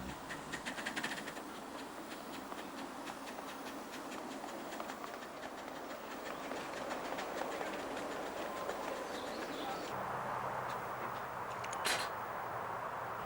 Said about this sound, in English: This northeastern railway, class R1440, making a slippery start at the junction